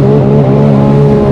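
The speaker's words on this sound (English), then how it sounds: "I think I might have hit the rev limiter off the top." The engine of a Sea-Doo Spark jet ski, fitted with a tuning kit, holds a loud, steady high-rev drone right at the limiter, close and continuous.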